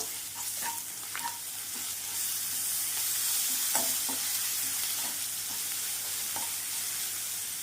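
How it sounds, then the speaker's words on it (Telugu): A spoon scrapes through curry sizzling in a pan as turmeric and chili powder are stirred in, giving a few soft clinks and scrapes over a steady frying hiss. "కొంచెం పసుపు వేసుకుందాం వీటిని ఒకసారి కలుపుదాం బాగా"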